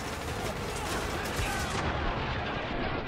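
Gunfire in the war shooter Spec Ops: The Line, a dense continuous barrage of loud rifle and machine-gun shots with booming echoes, shouted voices mixed underneath.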